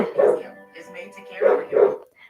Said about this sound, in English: Please do excuse any background noise from my dog.